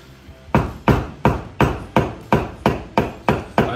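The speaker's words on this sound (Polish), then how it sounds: "Wyklepane młoteczki." Small hammers tap repeatedly on stuck-together clutch plates from a burned clutch of a KTM 450 EXC-F, about ten sharp, even metallic strikes in a steady rhythm, close and loud with no talk.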